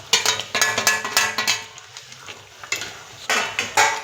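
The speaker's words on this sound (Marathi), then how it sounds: "हा मसाला असा एक 2 मिनिटं मंद आचेवर तेल सुटस्तवर शिजू द्यायचा" Masala cooking in oil with fried paneer, stirred by hand in a pan, giving repeated close scraping strokes over a soft sizzle, with a short quieter pause before the stirring resumes.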